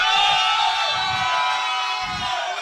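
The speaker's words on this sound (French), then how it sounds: "Et la foule jubile!" A crowd at a WrestleMania 35 weekend wrestling show cheers and shouts in loud swelling bursts, with a high sustained tone ringing above the roar.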